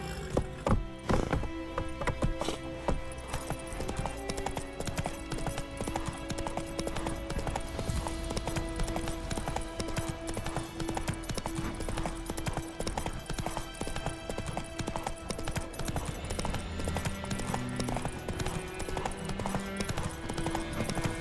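A horse's hooves clip-clop steadily through the fantasy game The Witcher 3, layered under dense, loud game music and ambience for the whole stretch.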